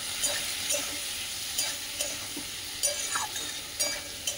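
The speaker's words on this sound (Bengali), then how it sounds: "শিমলা মির্চি আর লঙ্কাগুলো দিয়ে একটু নাড়াচাড়া করে একটু লবণ হলুদ দিয়ে দিলাম" Capsicum and green chillies fry in oil with panch phoron, kalonji and hing, a low steady sizzle broken by repeated scraping stirs and faint clinks of the utensil against the pan.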